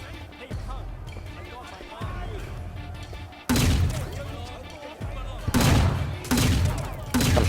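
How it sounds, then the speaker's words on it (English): Gunfire in the video game Sleeping Dogs, during an anti-terrorist mission, cracks out in repeated bursts and single shots at close range, growing louder toward the end, with someone talking over it. "I'm shooting right at him."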